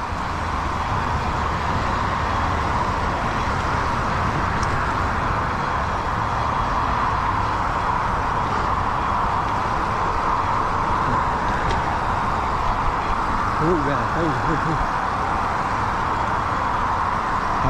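Constant loud roar of freeway traffic beside a mountain bike trail, a steady broadband wash of passing vehicles that never lets up.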